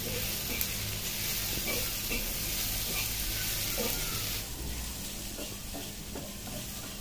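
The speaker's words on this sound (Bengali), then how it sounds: "দুইটাকে খুব ভালো করে ভেজে নিতে হবে।" Onion and garlic fried with salt in a pan, a steady close sizzle with occasional stirring scrapes that softens partway through.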